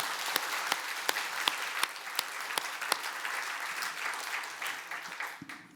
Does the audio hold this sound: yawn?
no